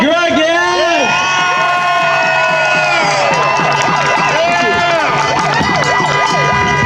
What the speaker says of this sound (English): Please put your hands together for Dr. Imad.